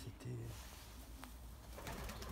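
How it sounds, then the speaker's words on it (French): A pigeon coos close by, a low rounded call near the start and more soft cooing later, with a few faint background noises and no clear talk. "Attends, c'est quoi ce pigeon là?"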